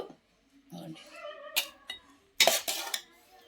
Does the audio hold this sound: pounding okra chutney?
yes